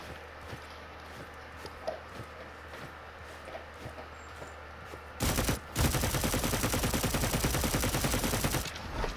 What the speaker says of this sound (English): I am mastering the art of just holding down the fire button with Talos.